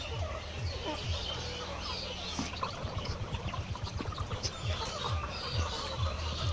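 Layer chickens, 78-day pullets at a poultry farm, cluck and call in a busy overlapping flock chorus with repeated short notes, and a faint voice now and then.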